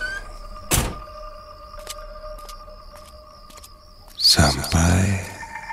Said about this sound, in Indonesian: Ku tutup pintu mobil dan segera pergi.